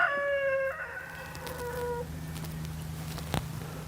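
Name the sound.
rooster crowing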